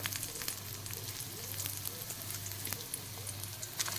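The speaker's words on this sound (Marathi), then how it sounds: "आणि लसूण हे तुम्ही दोन मिनटं चांगलं परतून घ्यायचं" Ginger, garlic and green chilli sautéing in a pan for egg masala, a faint continuous sizzle with occasional light stirring taps, heard alone without voices.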